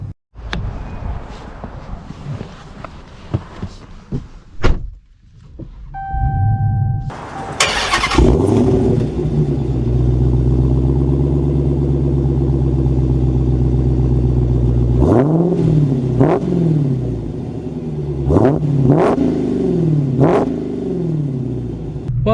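A Dodge Challenger Super Stock with an 800-horsepower factory drag-car engine clatters and starts, then settles into a deep, loud idle rumble before revving repeatedly as the car pulls away, heard up close.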